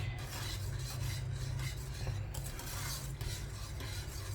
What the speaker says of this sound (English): so I just keep stirring it so it doesn't burn on the bottom